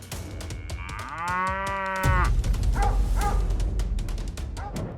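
A charging cow lets out a loud, drawn-out moo, followed by a dog's sharp repeated barks over rumbling noise, with no talking.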